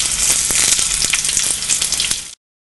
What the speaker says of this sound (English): Start frying my wonton.